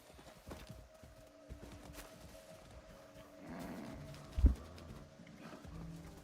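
Two horses trot with faint hoof clip-clops amid quiet ambient game sound in the open world of Far Cry 6, with a brief louder thump partway through.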